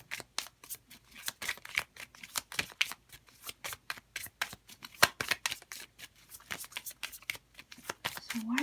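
Tarot cards being shuffled up close, with a dense run of quick crisp riffling snaps and flutters repeating steadily and no voices.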